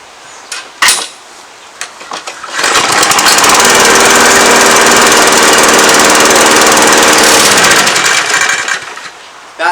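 A push lawn mower engine with fresh fuel and a full oil tank runs steadily at a constant speed without throttling up, loud and close after a few brief clanks, then cuts off near the end.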